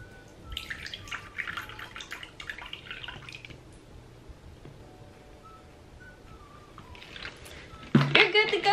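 Water is poured and dripped into a rose hair tarantula enclosure with soft splashes. A voice speaks near the start, and a louder burst of pouring water comes at the end.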